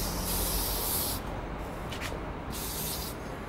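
Hair spray hisses from an aerosol can in close, sustained bursts, one long spray broken off and then two more, with no voices.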